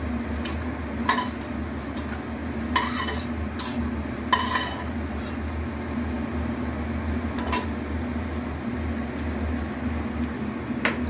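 Metal utensils clink and scrape against a pan as fried bori (lentil dumplings) are lifted out, with a few sharp clatters over a steady hum of a fan or burner.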